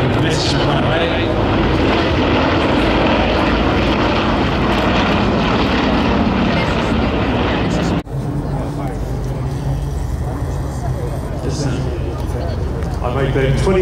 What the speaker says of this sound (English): there's a reason the Anson's flying right over the top of us.